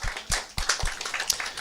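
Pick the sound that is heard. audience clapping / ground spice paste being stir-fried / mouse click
audience clapping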